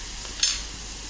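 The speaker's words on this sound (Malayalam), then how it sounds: "നന്നായി ഒന്ന് വഴറ്റി" Onions sauté in a pan with a steady, soft sizzle, broken by one brief scrape of a stir partway through, close and moderately quiet.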